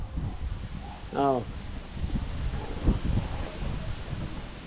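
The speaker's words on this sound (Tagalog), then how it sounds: "Napakalakas ang hangin, mga kalibre." Steady wind roaring across the microphone outdoors, with a brief voice and faint background rumble.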